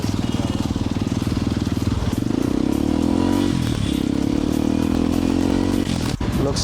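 A Kawasaki KLX 230 motorcycle fitted with a new exhaust rides along, its engine a loud, steady drone that rises slightly in pitch partway through and ends with a brief clunk.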